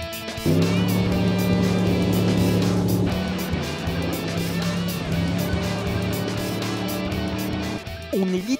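A motorboat engine roars close by, holding a steady strong drone with a sharp rise in pitch as it accelerates across the water, then easing off near the end; a voice is briefly heard over it.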